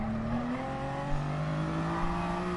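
Race car engine in the Gran Turismo Sport video game revving steadily with a rising, sustained drone and gear-change pitch shifts, heard alone at moderate level.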